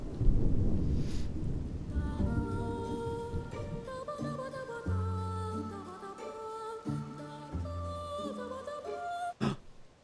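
Rain and a thunder rumble in the video game The Legend of Zelda: Tears of the Kingdom. A low rolling rumble and hiss of rain open the moment, then soft melodic in-game music takes over above the fading rain.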